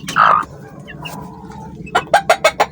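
Black ghost chickens clucking close by, one squawk at the start, then a quick series of five or six sharp clucks near the end.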